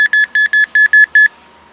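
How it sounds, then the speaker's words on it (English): An EMF detector app on an Android Nexus 7 (2013) tablet gives seven sharp, loud electronic beeps in quick, even succession, then falls silent. "that's a EMF detector on an Android Nexus 7"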